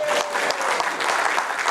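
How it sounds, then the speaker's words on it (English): Applause from an audience at a community gathering as a guest named Don is called up to the front, a steady dense wash of clapping throughout, loud and close. "come up, give Don a applause"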